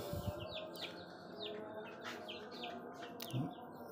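Small home chicken coop set up inside a room, with birds chirping and cheeping in short, scattered calls over a steady low background hum; no speech.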